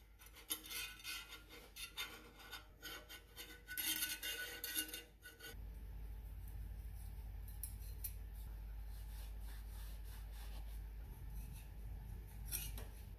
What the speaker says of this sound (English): I've cleaned all the surfaces of where the gasket and everything goes